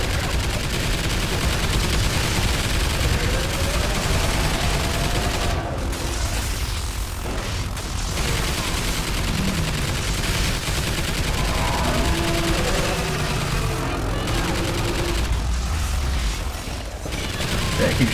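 Continuous loud gunfire from a multiplayer alien-shooter video game during a boss fight, dense rapid bursts of shots with mechanical clatter, and excited players talking over it.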